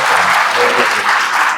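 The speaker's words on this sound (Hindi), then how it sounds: "ताली बजाओ अपने लिए।" A hall full of nursing and engineering students at a college event in Prayagraj claps loudly. The dense applause holds steady and continuous from start to finish.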